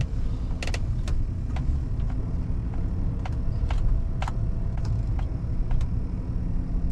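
A truck runs and drives along, its engine giving a steady, loud low rumble from inside the cab, punctuated by scattered light clicks and rattles, with no one talking.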